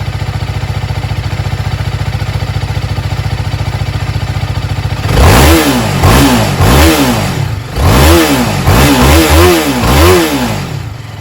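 A TVS Apache RR310 motorcycle switched to track mode idles with a steady low hum, then its engine is revved hard in a quick series of loud, close rising and falling bursts.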